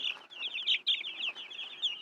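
Nine-day-old chicks in a brooder peep and chirp continuously, a dense, high-pitched chorus of overlapping cheeps with no talking.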